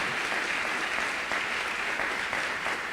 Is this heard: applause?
yes